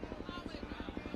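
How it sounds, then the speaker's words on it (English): A police helicopter flies overhead during a slow-pitch softball game, its rotor beating in a steady, even chop that holds throughout, with background sound under it. "Police helicopter above us right now, as you can hear it."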